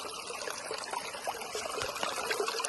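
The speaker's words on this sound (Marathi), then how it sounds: "पाण्याचा आवाज मी तुम्हाला ऐकवतो आता बघा." Water flows through forest at Mahabaleshwar, giving a steady, close rushing and trickling sound that fills the whole stretch without pause.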